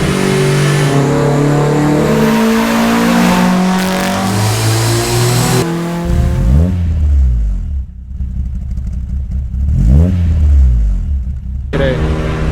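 A car engine revs hard and loud on a dyno at a dyno day in Concord, California, holding high revs before dropping and surging again in repeated pulls, close and roaring.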